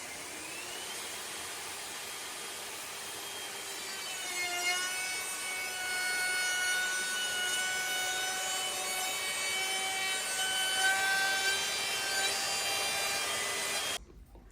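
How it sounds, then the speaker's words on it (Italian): Wood router fitted with a straight-flute flush-trim bit with a guide bearing, cutting wood while building a DIY Montessori bookshelf; a loud, steady high-pitched whine with harmonic overtones that dips in pitch as the bit bites, running continuously before cutting off. "Sulla fresatrice ho montato una fresa a taglienti dritti col cuscinetto a copiare, così posso sistemare quel problema."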